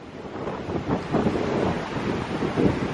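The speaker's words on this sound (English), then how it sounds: "so it's very windy, as you can see still." Strong gusts in the aftermath of Hurricane Irma in Orlando buffet the microphone, rising and falling in rough, rumbling waves with no voices.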